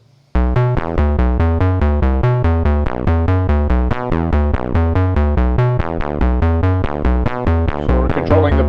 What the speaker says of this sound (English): we're going to run that envelope generator to one of our oscillators to control the pulse width.